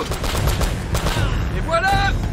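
Rapid bursts of gunfire from a shootout in Uncharted: Drake's Fortune, loud and close, with French-speaking voices talking over the shots.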